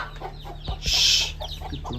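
Chickens clucking nearby at a rural home, several short calls scattered across the moment with a louder burst of squawking in the middle, over a steady low hum.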